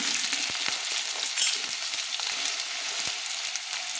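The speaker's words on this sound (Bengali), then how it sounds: "আলুগুলো আমি তুলে দিলাম, দিয়ে আমি নেড়ে নিচ্ছি।" Cut, washed potatoes fry in a pan for a winter-vegetable khichuri and are stirred. There is a steady close sizzle, with scattered soft scrapes and taps from the stirring.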